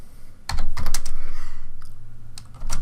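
Keys tapped on a computer keyboard while entering drafting commands, a few quick close clicks and a short burst of keystrokes, loud and alone.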